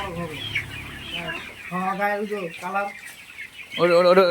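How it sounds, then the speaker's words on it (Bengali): Young Kadaknath chickens, about one and a half to two months old, clucking on a poultry farm, with several clear, close calls in bursts, alongside farm background noise. "আজকে আলোচনা করব কাদাকনাথ মুরগি সম্পর্কে"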